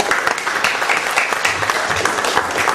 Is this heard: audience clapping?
yes